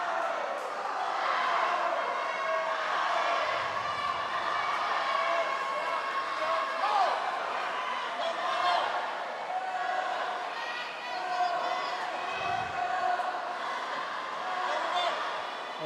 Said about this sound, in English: one of the main reasons why the crowd's so loud is because we're in a room with a lot of echo in here